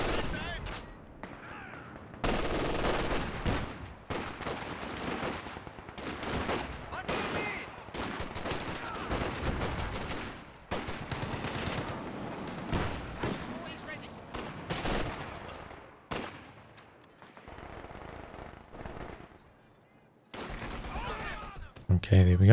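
Machine gun fire rattles through a competitive video game match in repeated bursts and volleys mixed with other gunfire and explosions, while a commentator talks over the action almost continuously.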